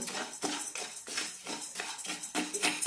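Rice dry-roasts in a pan on a low flame while it is stirred, making rhythmic, gritty scraping swishes that repeat about twice a second, close and moderately loud.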